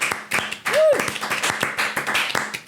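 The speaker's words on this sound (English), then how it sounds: "Let's have a family round of applause for Jaden starting her new job today" A small family group claps for Jaden at home, quick uneven handclaps close by, with voices talking and calling out over the clapping.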